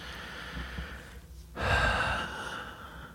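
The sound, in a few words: a deep breath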